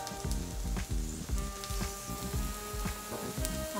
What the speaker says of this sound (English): and then pan sear it